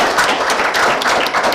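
An audience at a geographic information standards panel applauds the organizer with brisk, close, loud clapping. Individual hand claps stand out through the short burst, and no one speaks.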